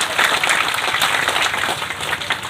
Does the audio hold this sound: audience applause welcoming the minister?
yes